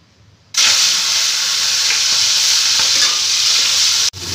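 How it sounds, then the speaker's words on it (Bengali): Prawns hit hot mustard oil in a wok with a sudden loud, steady sizzle that holds for several seconds, then cuts out briefly near the end before resuming; no one speaks. "তেল গরম হয়ে গেছে আর চিংড়ি মাছগুলোকে আমি হালকা করে ভেজে নেব।"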